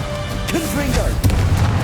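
Confringo spell blasts in Hogwarts Legacy land as booming bursts and pops over a constant game soundscape, with a voice calling out during the action.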